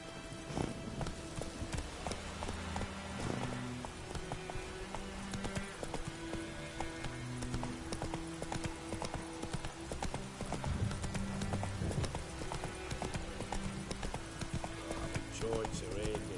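Horse hooves clip-clop steadily at a gallop in The Witcher 3, with occasional neighs, running under continuous game music and ambient sound.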